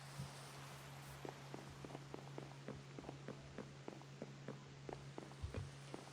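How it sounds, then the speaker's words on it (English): Rain falls steadily in the video game Clovercraft, a soft, even patter broken by frequent light taps and drops, with a low hum running underneath throughout. "And it's raining again."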